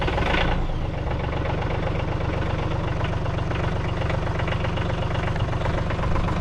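A cab tractor's engine idles in extreme cold and snow, a steady close mechanical chugging with a dense, even knock that holds unchanged throughout, alone with no voices.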